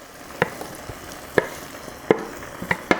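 Chow mein noodles and cooked vegetables tossed in a pan, with a steady low sizzle broken by a few sharp scraping clatters of the utensil at irregular intervals, close up.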